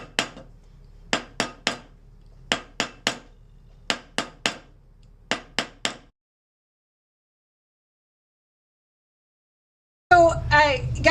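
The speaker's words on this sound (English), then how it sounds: "I am kind of concentrating all blows straight on that outside edge now that I have it round" Hammer blows strike the outside edge of a round soldered metal container, fourteen sharp metallic raps in short clustered bursts over about six seconds, followed by silence and then a brief burst of louder mixed noise at the end.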